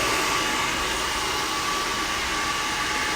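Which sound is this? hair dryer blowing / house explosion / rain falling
hair dryer blowing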